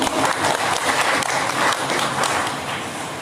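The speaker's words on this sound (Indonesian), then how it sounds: "Tepuk tangan dulu." An audience at a business seminar in Medan breaks into dense, loud clapping that fills the whole moment and fades slightly toward the end, with no voices over it.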